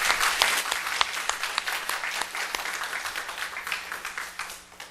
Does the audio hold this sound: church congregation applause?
yes